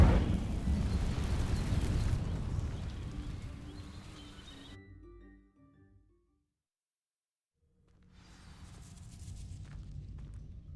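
An Incendio fire spell setting dry vines alight in Hogwarts Legacy, a loud roaring whoosh of flame that fades to near silence, followed by a softer crackling tail.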